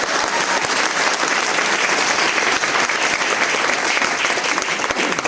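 An audience at a motivational talk breaks into sustained, dense applause, loud and steady throughout with no pauses.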